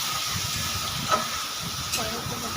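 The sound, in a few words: stirring spice masala frying in oil in a pan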